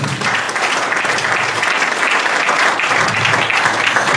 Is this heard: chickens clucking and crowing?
no